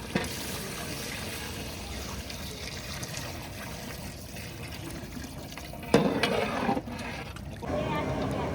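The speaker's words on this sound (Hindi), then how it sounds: "टाइम आ चुका है पानी डालने का" Water poured into a cooking pot before rice is added, heard as a faint trickle under steady background noise, with a clearer splash near the end.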